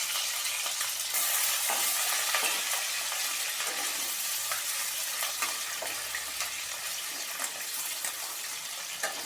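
Pieces of shankar fish, just flipped in a pan of hot oil, sizzle and crackle with a bright steady hiss punctuated by sharp pops and spatters, close and continuous without any talking.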